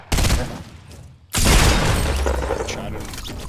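Video game gunfire in Fortnite: a loud burst of shots, a short lull, then a sustained heavy barrage of fire near the listener, mixed with voices.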